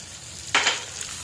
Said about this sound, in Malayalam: നല്ലപോലെ ഇളക്കി യോജിപ്പിക്കുക